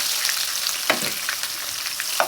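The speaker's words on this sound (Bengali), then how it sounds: "পেঁয়াজটা লাল হওয়া পর্যন্ত ভেজে নেব" Chopped onion frying in a pan with crushed cardamom and cloves for achari chicken, a steady bright hiss of oil with a couple of spatula scrapes.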